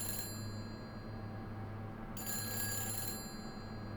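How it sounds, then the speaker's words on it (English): Telephone ringing inside the apartment in Silent Hill 4: The Room, two steady electronic ring bursts separated by a short pause, close and clear over a low droning ambient hum, with no voices. "Why is the phone ringing?"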